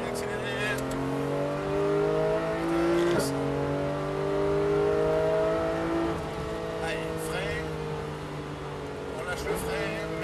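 A Porsche 991 GT3 pulls hard on a race track from inside the cabin, its engine note climbing through the gears with a shift partway and a loud sustained roar. A voice talks over it throughout.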